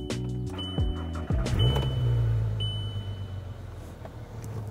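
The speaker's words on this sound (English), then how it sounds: "let's go ahead and start the car up and then we'll get into it" A VW Golf Mk5 R32 with a loud 3.2 engine cranks with a fuel pump whine. It catches and then settles into a steady, close idle rumble with no talk over it.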